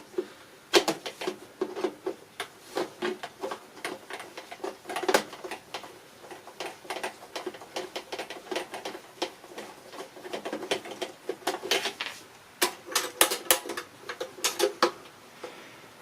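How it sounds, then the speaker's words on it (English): Two screws being undone on a glass fusing kiln during a relay repair, heard as a close run of small metallic clicks, taps and scrapes in an irregular rhythm, moderately loud with no talking. "I know it's not going to be exhilarating undoing two screws"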